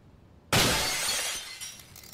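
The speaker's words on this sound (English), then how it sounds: "Need to break the glass." Glass breaks in a first-person horror video game set in a school: a sudden loud shatter bursts in after near silence, followed by a scattering tail of falling shards that slowly fades, with no talk over it.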